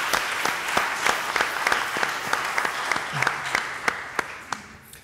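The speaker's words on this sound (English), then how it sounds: "give a round of applause" Audience at a talk on Houston rap history applauds, a sparse, moderately loud scatter of individual hand claps, with a brief murmur of voices partway through and the clapping thinning toward the end.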